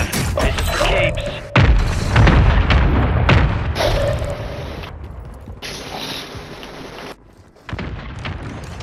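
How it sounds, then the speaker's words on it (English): Friendly mortar strike landing in a Call of Duty game, a series of heavy booming thuds and blasts with rumbling debris, loud and close, while a voice talks over parts of it. "Friendly mortar strike on the way."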